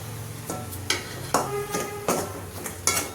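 A metal spoon stirs goat blood fry in a pan, knocking and scraping against it in about six sharp clinks at a steady, unhurried pace, close up and with no talk.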